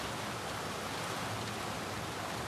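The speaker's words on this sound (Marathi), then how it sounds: "आम्ही घरी आल्यावर पाऊस बघा किती आलाय." Heavy rain pours steadily outside a house, a dense, even hiss of water with no breaks, fairly quiet and with no voices.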